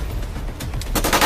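Several rapid airsoft gun shots crack out at an outdoor airsoft game site, the bursts clustering and growing louder toward the end over faint background noise.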